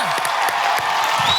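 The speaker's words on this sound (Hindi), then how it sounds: "जोरदार तालियां इनके लिए।" Audience applause and cheering for a performer who controls animals on a comedy show stage, with a broad wash of clapping and scattered whoops, loud and continuous through the short burst.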